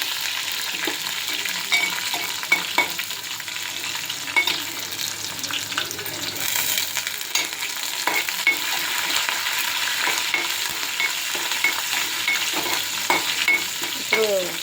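Garlic tempering for moong dal soup sizzles steadily in a hot pan, with a continuous oily crackle and intermittent scraping stirs throughout, close and fairly loud, with no talking.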